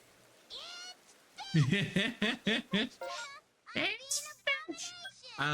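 Domestic cat meowing repeatedly, a series of close, fairly loud rising and falling cries in quick succession with brief gaps, ending in a few shorter calls.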